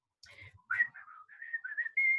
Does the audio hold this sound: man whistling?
yes